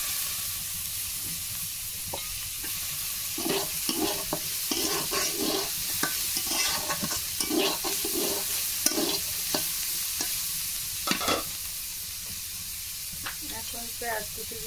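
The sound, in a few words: frying and stirring chopped onion in a pan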